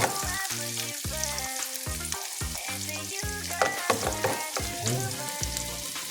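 Whole garlic cloves fry in cooking oil in a pan for a squid adobo, giving a steady, close, crackling sizzle that runs the whole time with no talk.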